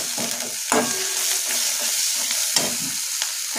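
Bitter gourd fries in a pan with green chilli paste for a vegetarian chorchori, a steady close sizzle broken by a couple of distinct spatula scrapes as it is stirred.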